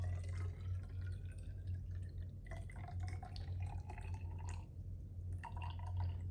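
Water is poured into a container sitting on a laboratory scale, weighed out to 95 grams for a percent-concentration solution: a faint, close trickle and dripping over a low steady hum.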